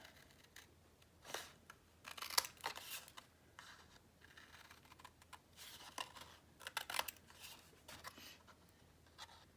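Scissors trim the corners of paper for a craft album, making quiet, close snips and rustles in a few irregular bursts with pauses.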